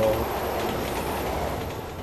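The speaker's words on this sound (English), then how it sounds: "Here it comes. Here we go. The train." A train pulls in during a Resident Evil 6 video game scene, a steady rolling rumble with faint wheel clatter and a brief high squeal at the start, heard alone at moderate loudness.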